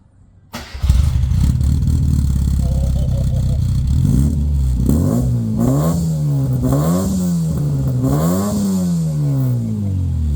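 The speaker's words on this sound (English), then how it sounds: "You guys want to hear that exhaust?" A classic Mini Cooper fitted with a John Cooper Works conversion kit exhaust starts up and idles with a deep exhaust rumble, then revs repeatedly in rising and falling bursts, loud and close.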